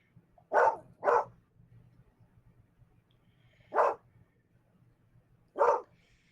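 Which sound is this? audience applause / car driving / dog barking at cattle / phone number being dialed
dog barking at cattle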